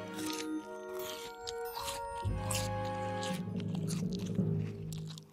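A cartoon character munches a rain pear, giving a run of wet, scrunching bites and chewing that grows busier and louder toward the end, heard close with light background music.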